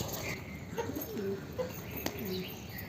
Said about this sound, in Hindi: ये कबूतर अभी छत के ऊपर आया हुआ है शायद